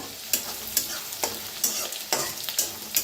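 A spatula stirs something roasting in a pan for a fenugreek vegetable dish, making regular scraping strokes over a faint constant sizzle, close and clear with no voices.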